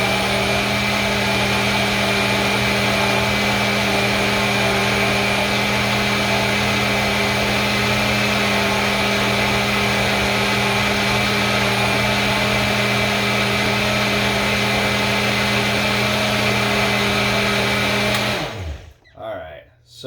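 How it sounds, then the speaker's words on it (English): A blender whirs steadily at full power while making a green smoothie, a loud constant motor drone that runs about eighteen seconds and then cuts off and winds down. "I'm going to do one more quick blend."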